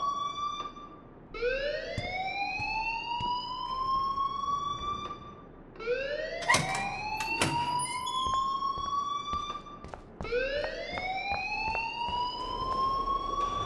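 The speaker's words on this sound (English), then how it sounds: "please turn off that alarm" A fire alarm sounds in the Life Is Strange game, rising whoops that repeat in long loud sweeps, each climbing steeply in pitch, with short sharp electronic bursts between cycles.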